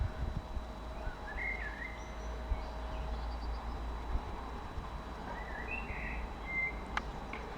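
Birds singing outdoors on a quiet, green day in Manchester, a few faint, scattered chirps and short trills at a distance over a low, steady background rumble.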